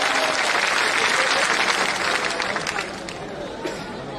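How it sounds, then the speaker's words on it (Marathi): Dense applause from a seated crowd at a political rally, loud and continuous at first, then tapering off as murmurs and voices come through the thinning claps. "त्यांच्यासाठी एकदा जोरदार टाळ्या वाजवा."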